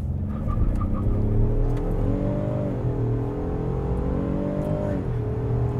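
A 2021 Ford F-150 PowerBoost hybrid pickup accelerates on a wet road, its engine a close, steady drone whose pitch climbs, dips and climbs again through gear changes.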